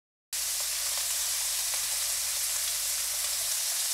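Meat for yakisoba, the Japanese stir-fried noodle dish, fries in a pan with a loud steady sizzle that starts abruptly and holds without a break, with a few faint clicks and no talk.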